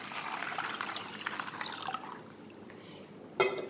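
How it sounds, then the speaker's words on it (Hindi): Water pours into a pot of soaked hair-pack ingredients such as fenugreek seeds, a steady splashing trickle that eases off, ending in a brief clink of the vessel. "अब इसमें 1 लीटर पानी डाल देंगे।"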